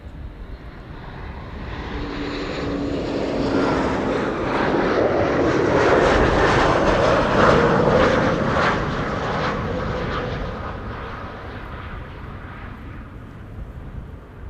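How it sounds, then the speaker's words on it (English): KLM passenger jet on flight 1076 from Bristol landing at Amsterdam Schiphol on a sunny day, a broad engine roar swelling to a peak as it passes close overhead, then slowly fading, no voices. "KLM flight 1076 arriving from Bristol,"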